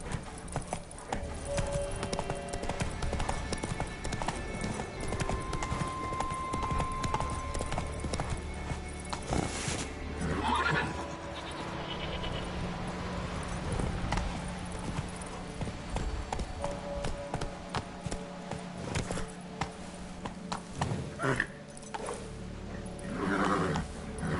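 Roach, a horse in The Witcher 3, gallops with rapid, continuous clip-clop hoofbeats and gives occasional whinnies, loud and close amid game sound effects.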